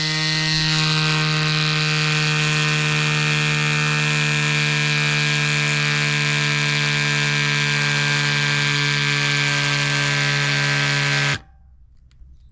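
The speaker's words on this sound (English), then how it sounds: "Pop it on and then just press the button, let the pump do its thing, and then it cuts out automatically when it reaches 18 PSI." A Cycplus AS2 Pro E Mini electric pump inflates a rear bike tyre with a steady, loud motorised whine and hum that holds constant for about eleven seconds, then cuts out abruptly into near silence.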